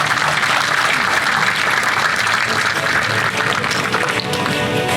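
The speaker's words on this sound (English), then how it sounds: "Please give them a round of applause." Audience at a Chula Vista State of the City address breaks into sustained, dense applause, loud and even from start to finish.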